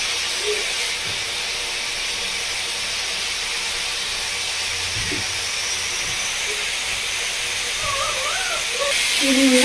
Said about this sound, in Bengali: জলটা দিয়ে ভালো করে মশলাটা ফুটিয়ে নেবো।